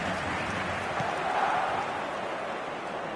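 A stadium crowd roars steadily in the football video game eFootball, a dense, even wash of cheering noise that rises slightly in the middle.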